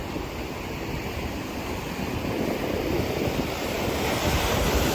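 Ocean surf rolls onto a beach on Hawaii's Big Island as a steady, broad roar mixed with wind buffeting the microphone, with no voices.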